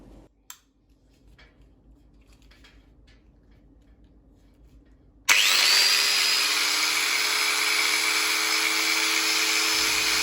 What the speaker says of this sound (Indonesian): suara dari RPM tinggi kedua grinder ini sekilas lebih mulus yang Bosch